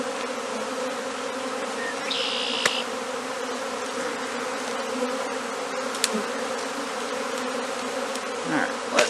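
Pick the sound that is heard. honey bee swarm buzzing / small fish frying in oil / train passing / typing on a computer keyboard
honey bee swarm buzzing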